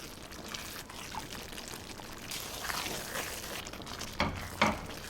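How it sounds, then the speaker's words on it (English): Hot boiling water ladled and poured into a pot of one-pot pumpkin pasta, a steady close pour and sizzle with a couple of louder splashes near the end, no talk. "you add a little ladleful of just regular hot boiling water, and you let it cook again and stir"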